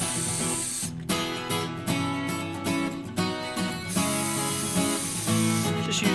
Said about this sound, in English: Just using some gum out carb cleaner on this.